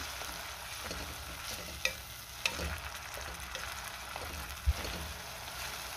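Tomato paste sautéing in oil, stirred in a pan: a steady soft sizzle runs throughout, with a few sharp clicks and knocks of the spoon against the pan scattered on top.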